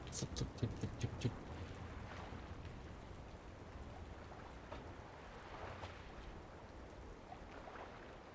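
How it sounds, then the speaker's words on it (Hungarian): Water drips in the video game Syberia The World Before, a faint patter of scattered drops that comes in a brief cluster, then continues sparsely over a soft, wet ambient hiss. "Csöpög a víz."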